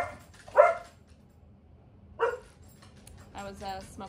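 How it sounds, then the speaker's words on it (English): Two short, sharp dog barks about a second and a half apart, close by and moderately loud, indoors shortly after a smoke alarm, followed by a faint voice. "Let's try to get through this without that going off and Scout barking."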